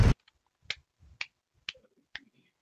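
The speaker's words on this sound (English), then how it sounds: "Oh, hold on, clap again." Hands clap with cupped palms: one loud hollow clap, then four sharp, evenly spaced claps about half a second apart, close and clear with quiet gaps between them.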